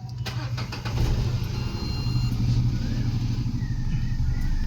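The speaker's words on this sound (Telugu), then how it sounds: "వెహికల్ ఇంజన్ స్టార్ట్ చేసినా చూడండి" A 2022 Renault Kwid RXT Optional, a single-owner car with about 24,000 km, cranks and starts at about one second, then settles into a steady low idle that runs to the end without speech.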